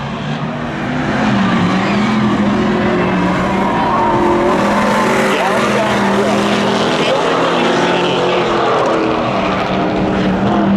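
Drag race cars, among them a 1998 Chevy Camaro, launch at a spectator drag event, engines roaring loudly and steadily as they accelerate away, with an announcer's voice over the din.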